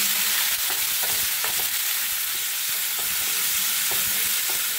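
Curry leaves and shelled peanuts frying in a pan for poha, a steady loud sizzle with occasional light stirring taps throughout.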